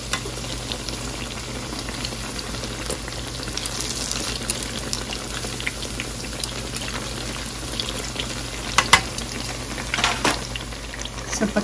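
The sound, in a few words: tempe mendoan frying in oil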